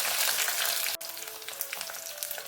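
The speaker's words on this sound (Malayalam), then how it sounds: "കടുകെല്ലാം പറ്റി നമുക്ക് ആ വെളുത്തുള്ളി അങ്ങോട്ട് ഇട്ട് കൊടുക്കാം" Garlic and mustard seeds fry in hot oil for a dried shark curry, giving a dense, close sizzle that dips briefly, then resumes with scattered crackles and pops.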